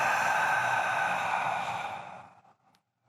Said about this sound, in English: breathe out for 3 seconds